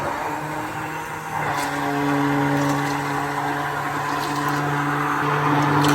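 An electric mixer whips cream in a sailboat galley offshore, a steady whirring motor hum that swells slightly in loudness and holds, with faint background noise and no talk.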